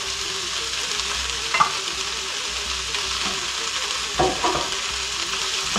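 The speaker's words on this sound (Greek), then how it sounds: "Έχουν αρχίσει τα πράσα μας να σοτάρονται" Leeks with finely chopped onion sauté in a pan for a Greek pita perek, a steady close sizzle with a few stirring scrapes and utensil knocks cutting through.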